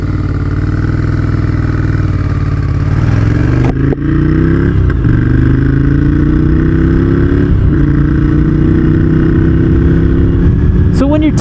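A Ducati Scrambler motorcycle pulls away on a snowy mountain road, its loud engine droning close to the mic, rising in pitch through successive gear changes, with wind rushing over everything.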